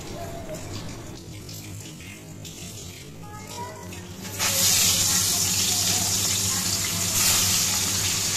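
Boroli fish being washed under running water in a kitchen, a steady tap stream that swells to a louder, fuller gush partway through, with faint background hum.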